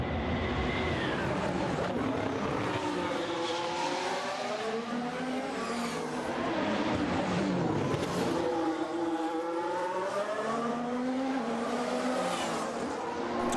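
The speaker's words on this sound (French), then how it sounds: "un tour avec Max Verstappen pour essayer de se rapprocher, peut-être de dépasser Charles Leclerc" Formula 1 cars lapping the street circuit at Baku during a practice session, high-pitched engines rising and falling as they accelerate, downshift and pass, loud and continuous with overlapping cars and no talk.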